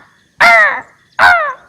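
A crow gives two loud, harsh caws close by, each hoarse and slightly descending, separated by a short pause, alone against near silence.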